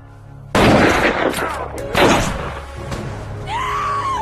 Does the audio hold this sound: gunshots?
yes